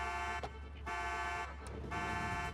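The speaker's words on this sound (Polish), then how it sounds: "W ogóle w otwartym aucie alarm." A car alarm blares from an unlocked, open car in Grand Theft Auto IV, a loud steady electronic tone broken by short gaps in a repeating cycle, with no talk over it.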